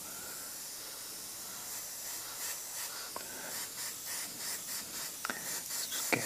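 An airbrush sprays paint in a 1940s vintage style with a steady, soft airy hiss throughout, pulsing slightly as the trigger is worked, with a couple of faint clicks near the end.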